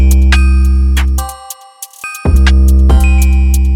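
A modeled glockenspiel synth preset sounds loud, bright bell-like notes struck in quick succession with sustained ringing tones, briefly cutting out midway before resuming.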